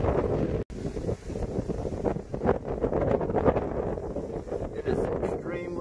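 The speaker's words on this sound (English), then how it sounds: "It is extremely windy up here." Strong wind buffets the microphone on a mountain summit near Flat Top tower at sunrise, a constant loud roaring rush with gusty swells and one brief dropout.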